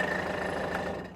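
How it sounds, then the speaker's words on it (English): Brief, moderately quiet steady drone from a triple-cylinder Lamborghini diesel engine on a side-by-side, idling evenly before fading slightly at the end. "So you've got a triple cylinder Lamborghini diesel engine."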